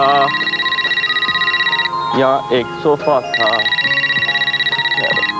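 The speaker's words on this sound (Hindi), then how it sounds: "ये किसका फोन आ गया?" A telephone ringtone chimes loudly and continuously in a drama scene. It pauses briefly while someone speaks, then resumes ringing.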